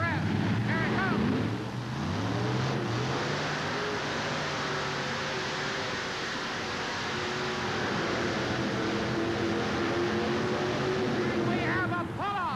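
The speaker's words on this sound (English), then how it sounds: "As the RPMs of the engine come up, the clutch locks in." Alcohol-burning drag boat engine roaring down a racing course, a loud sustained howl rising in pitch with wind and water noise, while an announcer talks over it.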